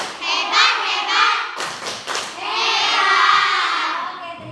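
Grade 5 schoolchildren in a classroom chant the 'tepuk hebat' routine in unison, their voices close and lively, broken midway by a short burst of sharp hand claps.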